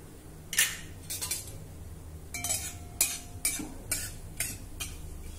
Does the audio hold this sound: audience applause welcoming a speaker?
no